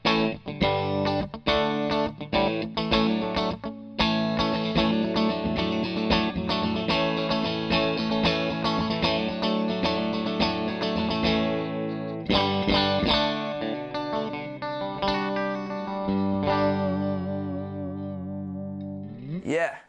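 Music Man Cutlass HSS electric guitar played in position 2, humbucker plus middle pickup, through effects: continuous picked chords and single-note runs with a slightly quacky, processed tone, close and steady, with no talking over it.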